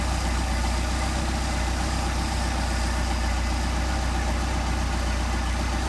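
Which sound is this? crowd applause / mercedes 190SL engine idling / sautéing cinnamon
mercedes 190SL engine idling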